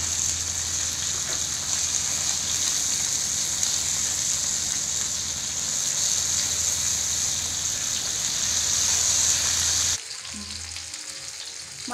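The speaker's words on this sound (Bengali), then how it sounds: "আমি ধীরে ধীরে মাছগুলোকে ভাজার জন্য দিয়ে দিলাম" Bata fish fry in hot oil in a pan, giving a loud, dense, steady sizzle that keeps going for most of the stretch and then drops suddenly to a quieter crackle near the end.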